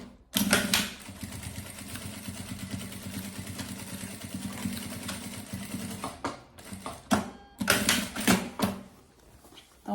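A sewing machine backstitches across the end of a zipper on a handmade carry-on travel bag. It runs loud and steady up close, then breaks into short stop-and-start bursts near the end, with no talk.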